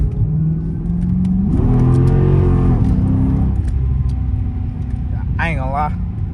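A Dodge Charger R/T engine revs and accelerates with no traction, a loud steady mid-frequency roar that climbs in pitch partway through, with a brief squealing, wavering tone near the end.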